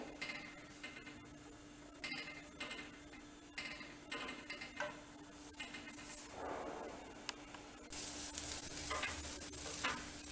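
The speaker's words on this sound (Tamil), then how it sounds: "இன்னும் கொஞ்சம் இந்த பாகு கொதிக்கட்டும்" A pan of sugar syrup bubbles and sizzles softly with occasional clinks and stirring scrapes, growing louder and frothier near the end.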